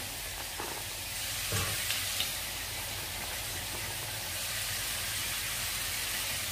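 Vegetables with sliced green chillies and chopped carrots stir-fry in a hot pan, making a continuous, moderately loud close sizzle with a few faint knocks, and no one speaks.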